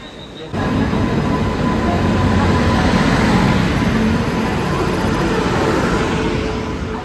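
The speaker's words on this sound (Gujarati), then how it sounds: "ફાઇનલી ભાઈ આપણી નરોલની ટ્રેન આવી ગઈ છે" A passenger train on the Mumbai–Neral line pulls into a busy station. After a quiet start, a loud, steady rolling rumble swells in and holds close for several seconds, then eases slightly toward the end.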